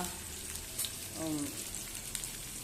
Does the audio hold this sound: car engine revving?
no